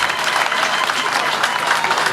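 Audience applause at a corporate event for SOCOMAC, a dense, steady wash of clapping from a crowd, held at an even level throughout.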